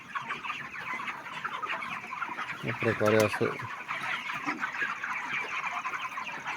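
Broiler chickens, heavy birds of around 2.5 to 3 kilos, cluck and murmur in a crowded shed while feeding, with one louder squawk standing out and someone speaking briefly over the flock.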